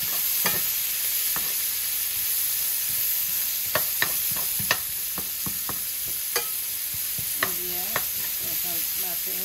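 Onions and green chilies hitting a pan of frying fish, a steady loud sizzle with scattered sharp clinks and scrapes of a spatula stirring, no voices.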